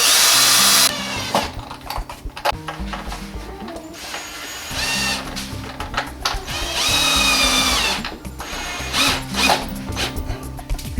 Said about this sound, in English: I'm just going to drill the holes.